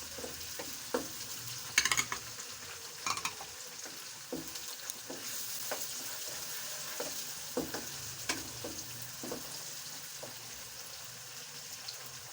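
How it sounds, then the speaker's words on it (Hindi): Tomatoes and mixed vegetables fry in a pan, a steady hiss of sizzling with scattered scraping and stirring knocks throughout, close and moderately loud with no voices. "इन चीज़ों को हम अच्छे तरीके से फ्राई कर लेते हैं।"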